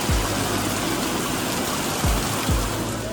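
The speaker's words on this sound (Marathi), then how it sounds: "छान पाऊस पडतोय" Steady, dense hiss of heavy rain fills the whole stretch, loud and close, with a few low thumps underneath.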